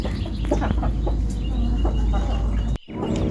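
Chickens cluck nearby in short, scattered calls over a steady low background hum, with a brief cut near the end.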